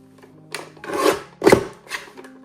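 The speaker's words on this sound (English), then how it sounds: "put it in my trimmer, take a little bit off one edge" A paper trimmer slices a small strip off one edge of a sheet for a handmade mini album, three quick close swishing cuts with nothing else around them.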